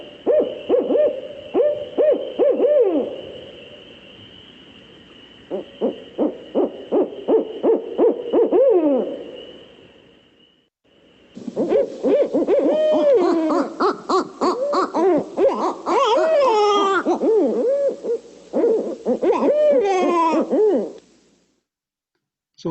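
Rhythmic barred owl hooting in a series of calls, followed by a louder, wilder burst of overlapping hoots and cackling calls from more than one bird, fairly close.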